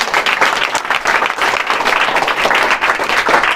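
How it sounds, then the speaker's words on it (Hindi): A school audience gives loud, sustained applause to welcome an arts student being honoured, a dense, even roar of many hands clapping close by, with no voices over it. "आर्ट्स की छात्रा अंजलि कुमारी को जोरदार तालियों से स्वागत कीजिए।"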